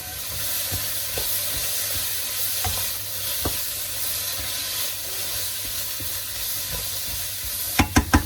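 Stir-fried noodles sizzle steadily in a hot pan with a constant frying hiss, a few soft clinks of stirring, and sharper knocks of utensils near the end.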